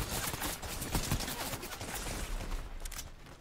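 Submachine gun fire in a Fortnite trios match, dense rapid bursts crackling continuously for several seconds, loud and close amid game noise.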